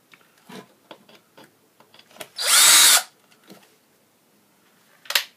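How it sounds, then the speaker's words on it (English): A power drill runs in one loud burst lasting about half a second while driving metal screws into a computer mount, set between scattered light clicks and handling taps with long quiet gaps. "So we're going to put the two screws in, angled sides."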